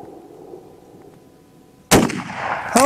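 A single sharp rifle shot from a Winchester Model 64, loud and close, with a brief echoing tail that is followed by a short sound rising again near the end.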